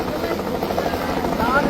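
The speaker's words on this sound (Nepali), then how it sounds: "भाइ बहिनीले त हेलिकप्टर चढ्नु पाए" A helicopter in flight gives a loud, close, steady rotor thumping throughout, with voices talking beneath it.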